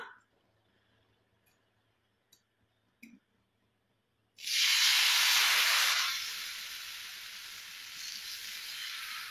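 Rava dosa batter hits a very hot griddle with a sudden loud, broad sizzling hiss that stays strong and then settles into a steadier, softer sizzle, after a few faint clicks in near silence.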